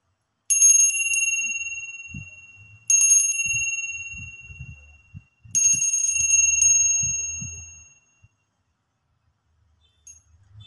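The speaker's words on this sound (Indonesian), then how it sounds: "kita akan memulai dengan tanda lonceng berbunyi" Three bright, ringing bell strikes, each sounding at about two-and-a-half-second intervals and decaying slowly, used as a starting signal before card-based fortune telling; low voices murmur faintly underneath.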